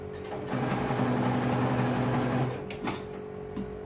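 A sewing machine top-stitches close to the ribbing on a boy's knit tank top, running steadily and nearby for about two seconds, then slowing and stopping, with a few small handling clicks afterward.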